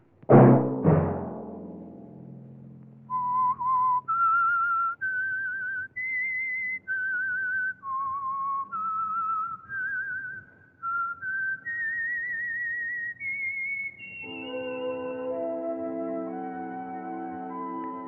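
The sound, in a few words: whistled theme melody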